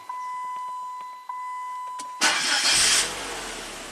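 A Chrysler PT Cruiser with a low-power, no-boost fault starts after a few key-on chimes and beeps. The engine catches with a loud burst, then settles into a steady idle with no talk.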